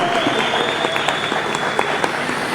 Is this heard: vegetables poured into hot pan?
no